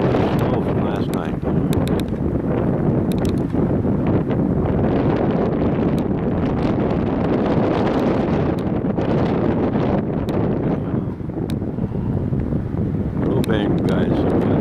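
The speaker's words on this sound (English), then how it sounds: "Wind's really whipping." Strong wind whips outdoors in the mountains above Lake Havasu City on a cold day after snow, a loud, steady roar buffeting the microphone without letup.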